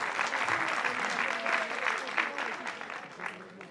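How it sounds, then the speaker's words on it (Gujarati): An audience applauds the performers of a Gujarati comedy drama, with loud, sustained clapping and a murmur of voices mixed in that slowly fades. "તેના માટે જોરદાર તાળીઓ."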